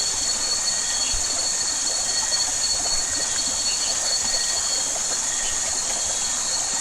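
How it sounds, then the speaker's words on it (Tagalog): A river rushes past, producing a constant, loud, even roar of water with no breaks. "May ilog kasi dito kaya may rumaragasa"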